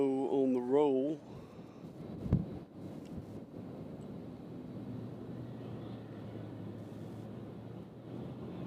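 A UPS airplane bound for Orlando rolls for takeoff at Louisville's UPS Worldport airport, a steady distant jet roar with a low hum running throughout, opened by a brief warbling tone and marked by a single thump early on.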